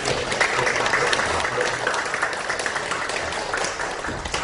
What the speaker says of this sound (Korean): 우리 한번 환영의 박수를 한번 쳐드리겠습니다